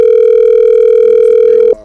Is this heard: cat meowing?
no